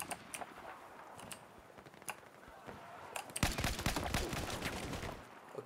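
An automatic sniper rifle firing in the video game Battlefield 4, a few isolated sharp shots followed by a rapid dense burst, with faint speech underneath.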